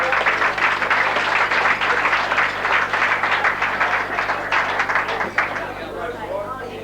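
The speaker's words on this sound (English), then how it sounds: "And another round of applause for a man who helped the Penguin Football Club win the grand final." Sustained applause from an audience at a football club awards night, dense clapping filling the room at steady loudness before tapering slightly near the end, with no talk over it.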